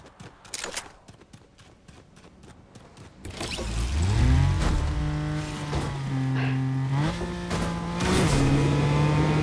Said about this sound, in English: I'm gonna grab that car and we're gonna head over